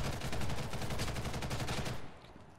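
Rapid automatic gunfire rattles in the online shooter game Ghost in the Shell Stand Alone Complex First Assault. One dense, loud burst runs for about two seconds before cutting off abruptly.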